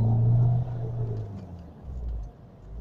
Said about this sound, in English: So now I'm performing a test drive.